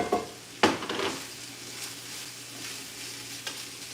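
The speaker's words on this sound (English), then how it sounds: "I'm gonna add our onion and garlic to the ground turkey." Onion and garlic frying with ground turkey in a pan, a steady low sizzle with a couple of sharp stirring scrapes near the start and a faint clink later.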